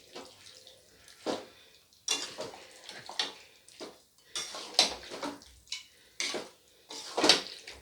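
A spoon scrapes and clinks against a pan while chicken is stirred with yogurt for a Bengali chicken masala, giving irregular close knocks and scrapes with quiet gaps between them.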